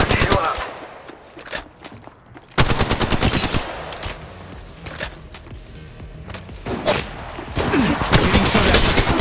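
Gunfire in Apex Legends Mobile: rapid bursts of automatic weapon fire, close and loud, with repeated volleys and shots layered over each other and faint game voice callouts in between.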